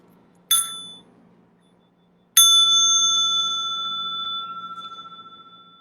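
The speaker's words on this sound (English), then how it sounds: "I'm going to invite the small bell for a little stretching and massage." A small mindfulness bell is struck twice in a quiet room: a brief first ring, then a clear second strike that sustains and slowly fades over several seconds.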